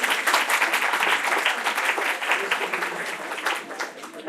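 A seated audience at an academic workshop on research paper writing claps for the resource person, a loud, sustained round of applause that swells and then thins slightly toward the end.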